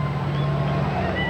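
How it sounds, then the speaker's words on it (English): Turbine engines of Abrams tanks rolling past in a military parade give a steady, loud droning rumble with a low hum and broadband roar, and no distinct breaks. "that's the sound of those turbine engines from the Abrams"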